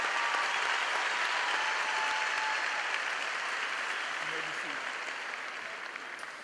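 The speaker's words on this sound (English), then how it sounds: "A round of applause for those folks," Audience applause at a Southeast High School Class of 2016 graduation ceremony: a broad, even wash of many hands clapping, moderately distant, slowly fading toward the end.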